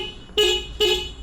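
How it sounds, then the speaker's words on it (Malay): A Keeway XDV 180 motorcycle horn sounds in two short, loud, bright honks about half a second apart, close by and with no talk over them. "Okay, kita tekan horn."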